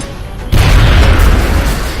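An AP grenade detonates in the video game X-Com Long War, a sudden loud boom after a quiet moment, followed by a sustained low rumbling roar that slowly fades.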